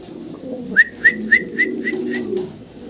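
Damascene fancy pigeons give a run of about six short, evenly spaced coos close by, rising over a soft, steady murmur of lower cooing.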